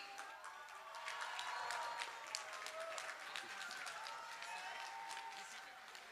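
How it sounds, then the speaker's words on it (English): A large diaspora audience in New York applauding Rahul Gandhi, faint and distant clapping blended with crowd voices and some cheering, sustained throughout. "Everyone, huge round of applause for Mr."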